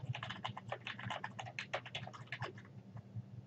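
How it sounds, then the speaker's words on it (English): Rapid, irregular clicks of typing on a computer keyboard while a paragraph is entered in a word processor, close and steady for the whole stretch with no talk. "To indent the first line, press the Tab button one time. Then begin to type."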